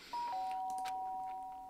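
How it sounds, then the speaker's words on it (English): Doorbell in the Danganronpa video game, a clear two-tone electronic ding-dong chime rung once that lingers and fades, with no talking over it. "the sound of the doorbell forced its way into my room."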